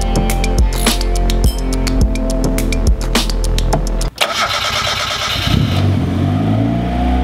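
A turbocharged Mazda Miata cranks with a rhythmic starter whirr, catches after about four seconds, and settles into a loud, close running idle.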